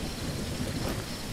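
Steady rain with a low thunder rumble in the survival video game No One Survived, a dense continuous wash of downpour filling the short stretch with no voices.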